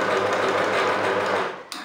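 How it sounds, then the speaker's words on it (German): Domestic sewing machine stitching a wide zigzag on black lace for a long maxi skirt, running steadily and close for most of the clip before slowing and stopping near the end. "ich habe einen relativ breiten Zickzackstich eingestellt und lege jetzt einfach mal los"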